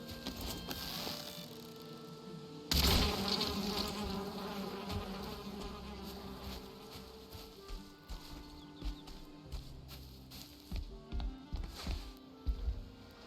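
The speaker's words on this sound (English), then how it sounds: "Oh, there's bees here." Bees buzz steadily in the game Valheim, a continuous insect drone with louder swells that comes and goes, mixed with soft footstep-like thuds and other ambient game sounds.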